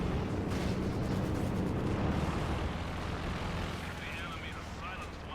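A Nebelwerfer rocket artillery barrage in the Company of Heroes video game rumbles as dense, overlapping booms and blasts under a commentator's excited talk, easing slightly toward the end.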